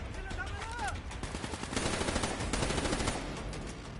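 Rapid bursts of gunfire from a PS4 shooter game, dense and continuous through the whole stretch, with automatic fire growing heavier in the second half and a faint voice mixed in early on.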